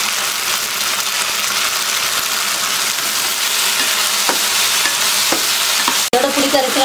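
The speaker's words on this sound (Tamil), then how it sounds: "எண்ணெயில் வந்து கொஞ்சம் வெண்டைக்காய் வந்து நல்லா வதங்கணும்." Okra sautés in hot oil, a loud steady close sizzle and frying hiss with occasional stirring scrapes, continuous and without talk.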